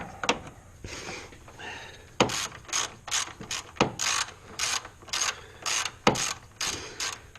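A hand ratchet clicks while tightening bolts on the AC compressor of a 2007 Sonata. Irregular bursts of close, crisp ratcheting clicks come in short runs separated by brief pauses.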